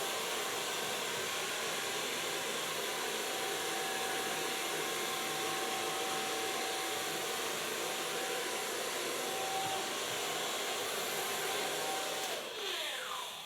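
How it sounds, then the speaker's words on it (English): A handheld hair dryer blows hair dry in a salon, a loud steady whoosh running continuously before the airflow changes briefly near the end. "So far blow drying."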